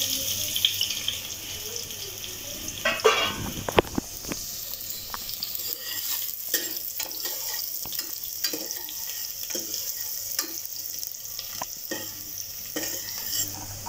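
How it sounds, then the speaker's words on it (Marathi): Onion tossed into spiced tempering oil over a low flame for Malvani-style goat intestine masala fries with a dense, steady sizzle, punctuated by ladle scrapes and stirring clinks, close and fairly loud throughout with no talking. "थोडा फोडणी करता कांदा घालूया।"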